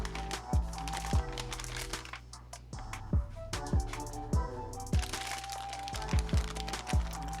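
A plastic sous vide bag crinkles and crackles as a deer chop is slipped inside, close and fairly quiet, with irregular sharp crackles and rustles throughout.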